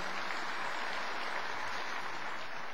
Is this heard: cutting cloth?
no